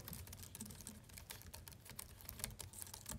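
Rapid typing on a soft, muted laptop membrane keyboard, a quick flurry of light keystrokes heard up close with no voices.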